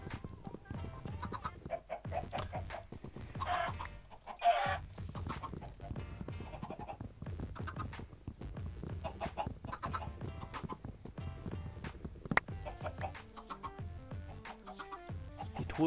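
Minecraft chicken clucks recur now and then over a steady, dense layer of game audio and background music, with no single sharp call standing out.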